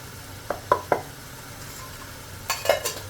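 Biryani spices are sautéed in a pan with garam masala added. A few scraping stirs and light clinks of a spoon against the pan come in two short bursts over a quiet, faint sizzle.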